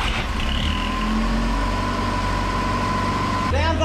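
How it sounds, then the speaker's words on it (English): An old mini truck box van, a former rental unit left sitting for years, idles steadily with a faint exhaust leak, a continuous low engine rumble close by, with a brief higher sound near the end. "Sounds like there may be a slight exhaust leak over here somewhere."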